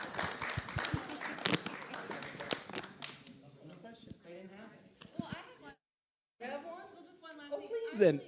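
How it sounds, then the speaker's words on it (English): Audience applause for a discussion panel at the close of an event, a dense burst of clapping at first that thins out, with talk and a short silence following. "give one final round of applause to our wonderful panelists"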